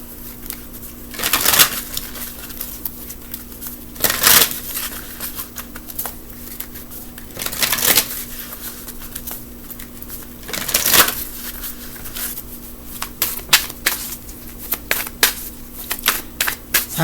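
Tarot cards being shuffled by hand in bursts of crisp riffling and slapping, several distinct shuffles spaced a few seconds apart over a steady low hum; close, moderately loud, no talking.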